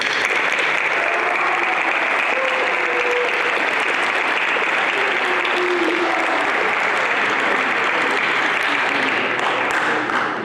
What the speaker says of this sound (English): I would now like to invite all of you to join me in applauding the 2022 Homecoming Court.